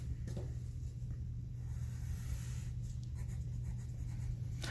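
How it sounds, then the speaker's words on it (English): Writing is wiped off a board in quick rubbing strokes, soft and close over a low steady room hum, with no talk. "Let me erase this here so I can make some room."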